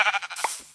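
A baby sheep bleats once in Minecraft PE, a short, soft, fairly close cry heard on its own.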